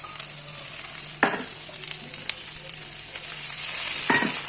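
Ginger paste, chopped tomato and spices fry in a pan just after a splash of water goes in, giving a steady hissing sizzle with two brief louder spatters. It is close and continuous, and no one talks.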